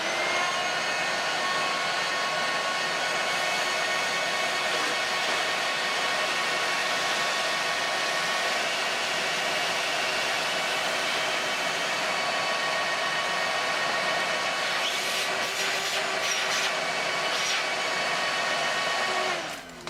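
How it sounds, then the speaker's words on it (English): A vacuum cleaner runs loud and steady, a dense whining roar, while it sucks drilling debris out of a plastic intake, with a few sharper rattling bursts toward the end. "we're going to run a vacuum cleaner"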